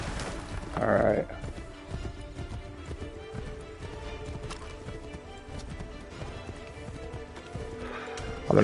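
Horse in the video game Assassin's Creed 3, a brief whinny near the start over a steady low clip-clop of hooves, moderately loud throughout, with a louder burst at the very end.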